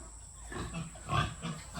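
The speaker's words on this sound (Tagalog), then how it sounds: "Meron din kaming baboy dito ni Mrs. Ito, mga 3." Pigs on a farm grunt in low, repeated bursts, moderately close, over a steady background hiss.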